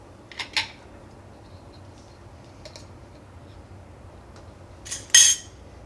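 A metal lid is set onto a canning jar of carrot cake jam, heard as a few light close clinks and taps over a quiet room, ending in a sharper metallic click.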